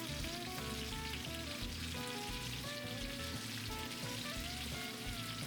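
Onions, pepper, garlic and celery frying in a brown roux for a Cajun dish, giving a steady, dense sizzle that runs unbroken throughout with no talking.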